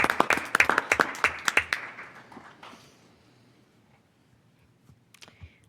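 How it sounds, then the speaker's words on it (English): An audience at a school board meeting claps in a short burst of sharp, close handclaps that fade out within about three seconds, followed by quiet room tone and a couple of stray claps. "So let's give them both a round of applause."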